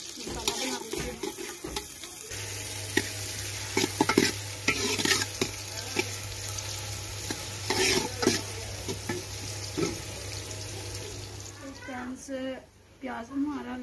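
Onions frying in masala in a pot for biryani, with a steady sizzle and repeated scraping and stirring of a spoon, close up, while someone talks over it.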